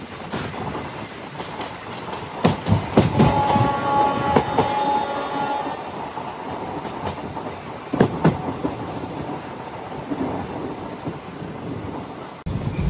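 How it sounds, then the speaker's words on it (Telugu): Passenger train of ICF coaches on the Narasapur to Arunachalam inaugural run, cruising at around 110 km/h, heard from aboard as a steady rumbling roar with sharp rail-joint clacks and brief metallic squeals. "ప్రస్తుతం మన ట్రైన్ క్రూజింగ్ స్పీడ్ అయితే ఇది."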